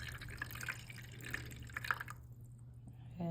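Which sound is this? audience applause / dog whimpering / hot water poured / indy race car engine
hot water poured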